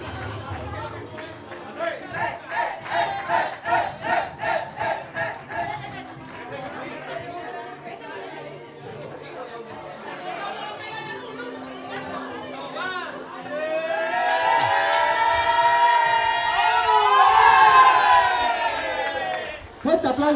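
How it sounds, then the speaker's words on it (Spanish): Loud applause and cheering rise from a crowd at an outdoor extreme-challenge event, with rhythmic clapping early on, chatter throughout, and a swelling wave of cheers and whoops toward the end. "Fuerte aplauso"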